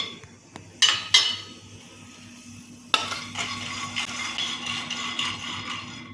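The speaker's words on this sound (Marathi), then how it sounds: "कढईत आपण आधी दाणे भाजून घेऊ." Peanuts dry-roast in a kadhai, with a few sharp metallic scrapes and clinks of a spoon against the pan, then a steady rattling, stirring shuffle that runs on to the end.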